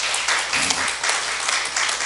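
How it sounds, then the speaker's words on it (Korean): Church congregation applauding during a sermon, a steady wash of clapping from a crowd lasting about two seconds, moderately loud and even throughout. "박수 한번 쳐주세요."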